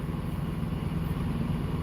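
A truck engine runs steadily, a continuous low rumble with an even hum, close and unbroken throughout.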